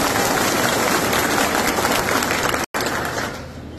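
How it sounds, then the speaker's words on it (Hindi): A political rally crowd in Thandla, Jhabua, breaks into loud sustained applause, dense clapping that cuts off abruptly for a moment, then returns and fades. "सही है तो तालियों की गड़गड़ाहट होनी चाहिए"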